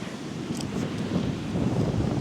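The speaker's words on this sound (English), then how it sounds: "Some of them gusts." Strong wind gusting across a deserted beach buffets the microphone with a continuous low roar, swelling and easing in gusts, with faint surf underneath.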